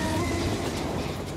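A train rolls along rails in the animated Transformers: Robots in Disguise series, a loud, continuous rumbling clatter that holds steady through the brief moment without speech.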